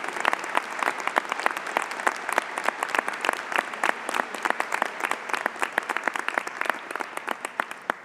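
A convocation crowd breaks into sustained applause for faculty, administration and governing bodies, dense continuous clapping with crisp individual claps throughout, loud and near.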